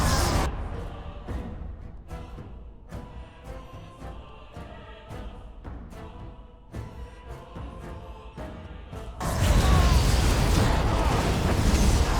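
An explosion spell goes off in Dragon Age: Origins, a loud roaring blast near the end after a stretch of rhythmic clanking combat hits and game sounds.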